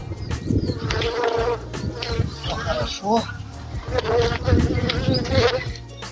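Honeybees hum around hives in an apiary where they are foraging on rapeseed, a continuous near buzz with passing insect drones while someone talks over it.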